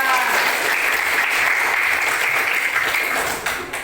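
A classroom gives applause for a student during a lesson on day and night; loud, dense clapping holds steady for several seconds and fades slightly at the end, with no words spoken over it.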